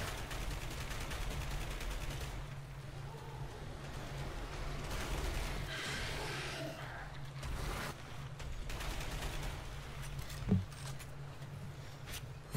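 Shotgun fire in the video game Dark Sector, sharp blasts scattered through the stretch with a steady low hum and dense game sound beneath, one especially loud report near the end.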